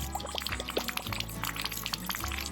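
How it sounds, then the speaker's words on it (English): Water gurgles and pours steadily as it refills a 12-gallon RV water heater tank, with bubbling air pockets and trickling splashes continuing throughout. "As you can hear, sometimes this takes a few minutes to get all 12 gallons of water back in there and get all the air out of your water heater."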